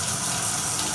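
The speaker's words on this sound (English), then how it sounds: "I have a shower head here, and I can just rinse off all my plants, and they sit on here, so they can drip dry much more easily" A shower head sprays water over houseplants in a shower, a steady close broadband hiss of rushing water with no break.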